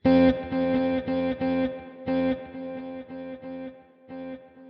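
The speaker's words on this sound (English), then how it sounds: "this is the circular delay as well that sometimes I like to use with that big reverb." An electric guitar runs through a Quad Cortex with a circular delay and big reverb, playing repeated chords that ring out with rhythmic echoes and a lingering wash between strums.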